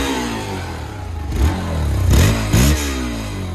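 A newly serviced motorcycle engine idles with a low, rumbling clatter, then is revved up in three short bursts that swell and drop back, close and fairly loud.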